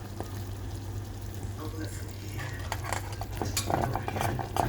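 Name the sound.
stirring coconut milk to make latik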